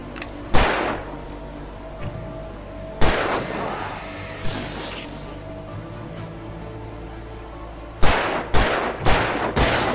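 Gunfire in the game Alan Wake Remastered: loud, sharp single shots early on, then a quick burst of several close shots near the end over a steady low game rumble.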